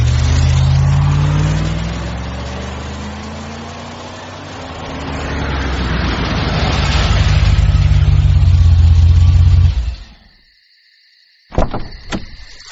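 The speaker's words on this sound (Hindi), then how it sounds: "गाड़ी बढ़ा।" A car pulling away with its engine revving, a steady low rumble that climbs in pitch for about ten seconds before cutting off abruptly, followed by a couple of sharp clicks.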